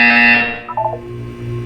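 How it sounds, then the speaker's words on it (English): A harsh electronic buzzer from the game Portal 2 blares loud and steady, then cuts off and gives way to a short blip and a low hum. "You will hear a buzzer"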